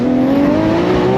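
Nissan Skyline R32 GTR engine at high revs on a track hot lap, one loud, close, sustained tone climbing steadily in pitch as the car accelerates.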